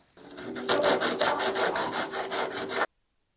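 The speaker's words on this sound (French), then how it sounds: "Je vais déjà tester la surface la plus grosse là avec du 80 pour désencombrer" Body filler on a broken Peugeot 406 coupé bumper is sanded with 80-grit sandpaper, a quick run of close, rhythmic rasping strokes that stops abruptly into silence.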